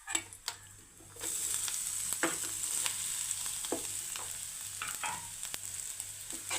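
Ground cumin, chilli powder, turmeric and coconut paste sizzling in hot oil with curry leaves, a steady close frying hiss broken by repeated scraping strokes of a stirring spoon against the pan.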